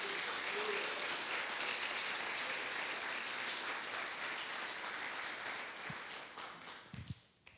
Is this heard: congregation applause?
yes